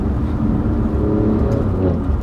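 An Alfa Romeo Giulia Quadrifoglio on a wet course gives a loud, continuous deep engine drone and rumble, close and unbroken for a couple of seconds, with no talking.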